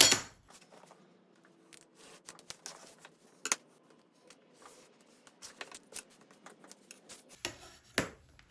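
Scissors cutting loosely around leather wallet pattern pieces, with sharp, irregular snips and rustling handling, faint and close in an otherwise quiet room.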